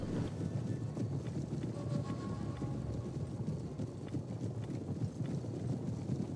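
Steppe horse archers' hooves clatter in a dense, continuous rumble of galloping cavalry during a Total War: Rome 2 battle, steady and fairly loud throughout with no talk.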